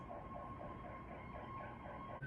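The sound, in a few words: siren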